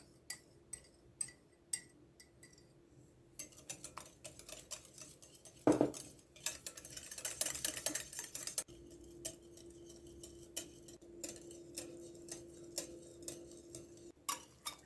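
A whisk clicks against a bowl as oil and yogurt are beaten into an apple cake batter, making a quick run of light, close taps that thickens into a busier scraping burst near the middle.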